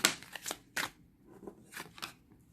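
Oracle cards shuffled by hand in several quick riffling bursts with short pauses between, close and crisp, nobody speaking.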